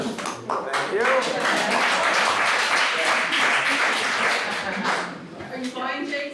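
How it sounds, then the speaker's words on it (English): Clapping breaks out at a town development meeting, a dense burst of applause from a room of people that fades toward the end, with voices mixed in. "Is that why you're clapping?"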